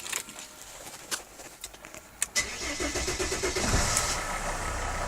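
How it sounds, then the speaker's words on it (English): A Mercedes ML 270 CDI diesel engine cranks with a few clicks, catches and settles into a steady idle with a rising rumble, heard close up with no talking. "Let me start the car up."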